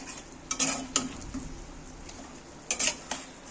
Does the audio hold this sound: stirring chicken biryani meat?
yes